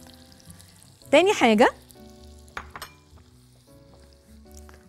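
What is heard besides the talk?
orzo sizzling in oil and butter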